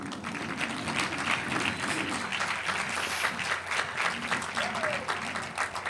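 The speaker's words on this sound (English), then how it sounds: "it's okay to clap for yourselves at this very moment" Graduating class of 2021 at a Rockford University commencement ceremony applauding themselves, dense sustained clapping from a large crowd filling the space, with faint voices mixed in.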